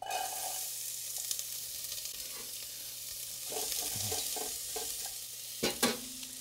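Chopped onion sizzling in hot olive oil in a pan for a Korean tofu stew, a steady close hiss broken by scattered clinks and scrapes of a utensil stirring, with a louder knock near the end.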